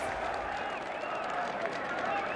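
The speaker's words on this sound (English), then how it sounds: "Let us gift our applause and cheers to these brave and dauntless Nameless." Crowd applause and cheering in Honkai Star Rail, a dense, steady wash of clapping and voices filling the whole stretch at moderate loudness, with chanting voices mixed in.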